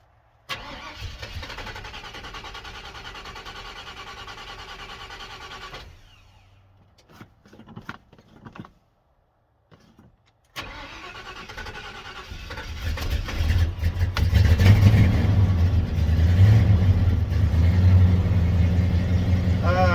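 A 1991 Ford F-150 pickup with a newly replaced ignition switch and timing slightly off runs steadily, cuts out into near silence, then cranks and catches into a louder, rougher idle that continues to the end.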